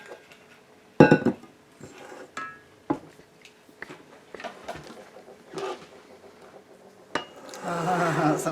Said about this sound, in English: Let's just fold in the banana slices.